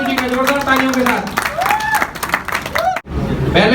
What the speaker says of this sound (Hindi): जोरदार तालियों के साथ निशु जी का